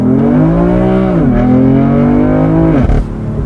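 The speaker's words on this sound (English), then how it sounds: "what I do really like about the convertibleness is the sound of the exhaust" Loud, close exhaust of a 2020 BMW M4 convertible droning steadily, the engine pitch dipping with gear changes and then falling away as the revs drop.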